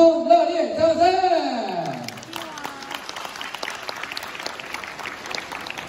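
Applause from the audience at a kindergarten graduation ceremony, a broad patter of many hands clapping that starts as a voice over the microphone finishes and continues steadily.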